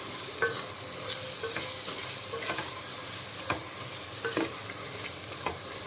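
Soya chunks (meal maker) frying in a pan for soya biryani: a continuous close sizzle broken by sharp spatula scrapes and taps at irregular intervals.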